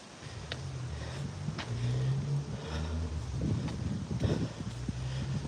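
Strong morning wind buffeting a microphone outdoors on a walk, low rumbling gusts rising and falling with brief crackly bursts, loud and close, no talking.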